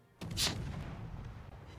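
A battleship's main guns fire in World of Warships Legends during a duel with the New Mexico, one sudden deep boom with a bright blast crack that decays into a long sustained rumble, loud and alone.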